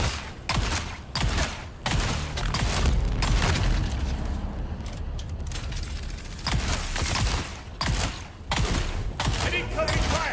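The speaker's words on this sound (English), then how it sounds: "Incoming fire!" Sustained video-game gunfire with booming blasts and rattling bursts, loud and close, pausing briefly before resuming in heavy volleys over about ten seconds, with a voice calling out among the shots.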